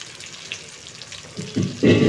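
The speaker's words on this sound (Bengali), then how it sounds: "তো চলো এটা ভাজা হোক।" Cauliflower florets dropped one at a time into hot oil for a Bengali chilli cauliflower dish, setting off a sizzle that swells from quiet to loud and dense near the end, with no talk.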